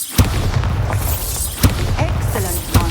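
Bombarda spell blasts in Hogwarts Legacy, three loud, sharp booming explosions spaced roughly a second apart over a rumbling game background.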